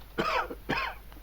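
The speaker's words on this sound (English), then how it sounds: "Stop coughing." Two sharp coughs sound close by at a low level, a short pause between them, with a faint rasp trailing off after them.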